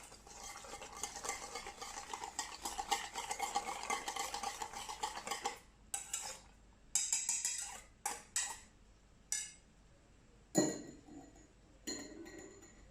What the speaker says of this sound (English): And the almonds. So you will mix and create a paste.